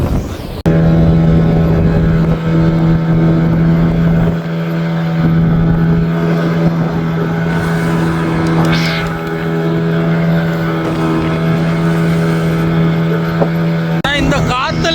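A fishing boat's engine drones steadily at sea in strong wind, a loud sustained hum with gusts buffeting the microphone throughout.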